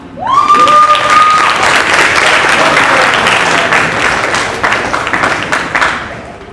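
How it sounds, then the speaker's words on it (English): A banquet crowd gives the club president a loud, sustained round of applause with dense clapping throughout, and a brief feedback-like whistle rings out near the start. "Round of applause."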